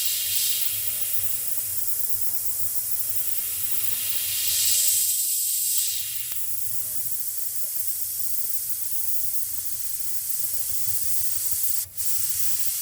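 An airbrush sprays a steady, close hiss while its nozzle is being cleaned. A brief louder burst of spray rises partway through, over a low background hum, with no talk.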